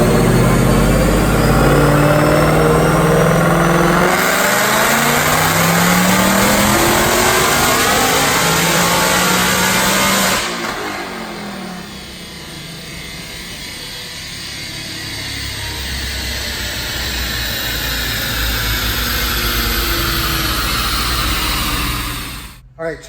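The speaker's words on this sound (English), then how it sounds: "Let's make a dyno pull." A supercharged 2018 Ford Mustang with a Whipple Stage 2 Coyote 5.0 V8 on a DynoJet dyno, roaring loud and close through a long rising pull, then dropping to a lower steady drone as it winds down.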